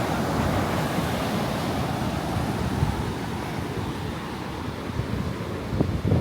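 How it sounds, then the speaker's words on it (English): Steady roar of ocean waves breaking at Canggu Beach, Bali, loud and continuous, with a low wind rumble underneath and no voices. "Lots of people out there enjoying the waves and surfing."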